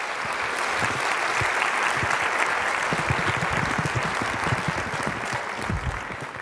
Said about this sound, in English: Oh, I get a round of applause.